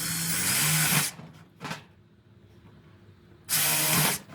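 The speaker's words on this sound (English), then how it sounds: "drill 2 holes in the back" Power drill boring two holes into a chicken feeder part, two loud whirring bursts of about a second each separated by a pause with a brief blip between, close up and without talk.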